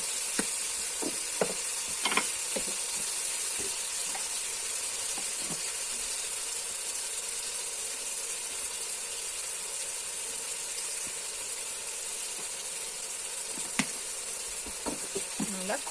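Ginger, onion and garlic paste with turmeric and chilli powder frying in a pan, a steady close sizzle with scattered scraping clicks of a spoon stirring throughout.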